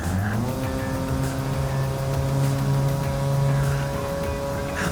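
Toyota C-HR in Gran Turismo 7 braking into a corner, its engine droning steadily with a sustained tire squeal rising over it for several seconds, loud and close with no talking.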